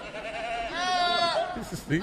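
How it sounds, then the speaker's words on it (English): A goat bleats in a wavering, drawn-out call lasting about a second, fairly clear rather than far off, with speech-like sounds around it. "I can hear a distant goat."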